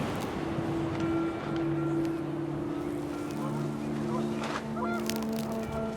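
Panicked geese honk repeatedly in What Remains of Edith Finch, overlapping nasal calls rising over a windy, rushing background, some honks close and loud, others trailing off.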